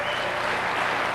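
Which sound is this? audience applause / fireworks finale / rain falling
audience applause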